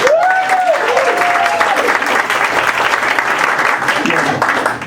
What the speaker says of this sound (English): let's give Gayla a round of applause.